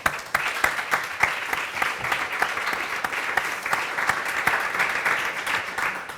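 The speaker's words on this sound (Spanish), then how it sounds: "un aplauso para los panelistas" A seated audience claps steadily for the panelists at the close of a round-table on speeding up the shift to renewable energy, with dense, even applause and a few sharper individual claps standing out nearby.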